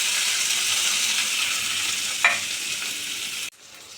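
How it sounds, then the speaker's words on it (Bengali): Capsicum and onion frying in hot oil in a pan, a constant loud sizzle with one stirring knock partway through before the hiss abruptly drops off near the end. "ক্যাপসিকাম পেঁয়াজ ভাজা হয়ে গেছে,"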